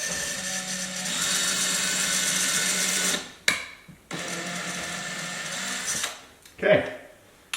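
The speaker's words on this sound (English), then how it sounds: "Find the 2x4 with the drill" A cordless drill bores into a wall at a marked height while hunting for a 2x4 stud before a curtain rod goes up. It gives a sustained whine for about three seconds, then a second run with short stops and bumps, recorded close.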